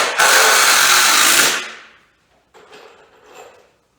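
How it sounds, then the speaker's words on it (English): A power drill drives screws into wall framing: a loud, close whirring burst of about a second and a half that winds down, then two shorter, fainter spins of the drill. "I don't know if you've ever framed with screws before, but it's not all that fun."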